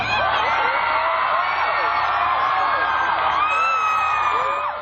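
A large concert audience screams and cheers loudly and continuously, with high-pitched shrieks and whoops rising over the roar.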